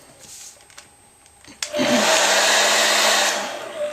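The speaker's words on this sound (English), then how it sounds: "trusty hairdryer." A few faint clicks and handling noises, then a hairdryer switches on loudly nearby and blows with a steady whooshing whine before easing slightly.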